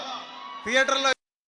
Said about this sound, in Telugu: ఈ అరుపుల కోసం వెయిటింగ్, ఈ చప్పట్ల కోసం వెయిటింగ్.